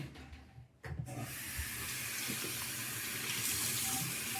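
Tap water running steadily into a sink while an aquarium filter is rinsed, a brief rustle at first, then a continuous close hissing stream with no talk.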